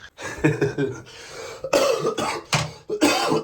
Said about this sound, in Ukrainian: Вона вже відкашлюється.